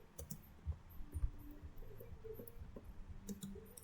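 Typing on a computer keyboard while configuring a MikroTik router, a few faint, sparse key clicks spread across a quiet background.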